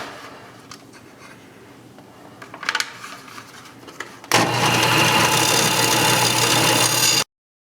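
After a few faint handling taps and rustles, a disc sander kicks in loudly, grinding a small mandolin nut with a steady, harsh whir that holds for about three seconds and then stops abruptly.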